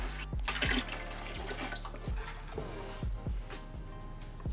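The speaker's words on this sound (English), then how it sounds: "I'm gonna transfer these over with the water still in them." Water poured and sloshed out of glass canning jars used for homegrown pickles, a continuous splashing pour broken by several sharp clinks of glass, close and fairly loud with no talk.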